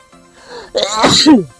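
A single person sneezes close by, a short sharp burst that follows a brief intake of breath.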